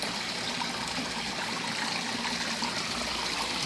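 Water splashes and rushes continuously into a garden pond, with a steady, close, fairly loud wash that holds even throughout and no talking.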